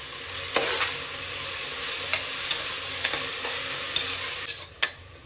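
Fenugreek greens sautéing in oil for methi matar pulao make a continuous close sizzle, and a few sharp ticks and scrapes of a spatula against the pan sound throughout, with no talking.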